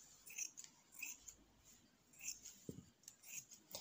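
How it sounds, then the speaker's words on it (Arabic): Quiet, repeated snips of scissors cutting fabric for a khimar, several crisp metallic cuts spaced unevenly at close range in a calm room. "انا نستمر بالتقطيع حتى نكملها"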